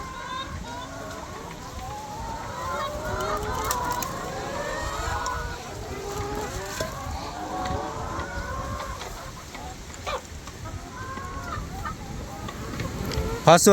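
Chickens cluck repeatedly in a rural garden yard, moderately close and continuing throughout alongside a person talking.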